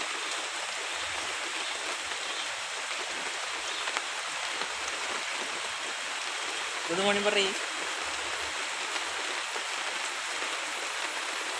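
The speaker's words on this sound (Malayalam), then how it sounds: "ഞങ്ങളുടെ വീട്ടിൽ മഴ പായുന്നു" Steady rain pours down around a house in a constant, even hiss, with a short spoken greeting heard briefly partway through.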